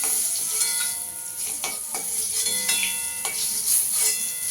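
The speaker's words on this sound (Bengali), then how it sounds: "এইভাবে আমি বাকিগুলো ভেজে নেব।" Stuffed kakrol (spiny gourd) fries in oil with a loud, continuous sizzle, broken by repeated scraping strokes of a spatula against the pan.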